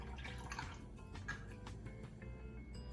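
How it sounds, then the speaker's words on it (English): Juice from a glass jar of pimentos is poured out, a faint trickle with scattered drips and splashes over about three seconds, close by and quiet in a kitchen. "I'll pour a little bit of the juice out."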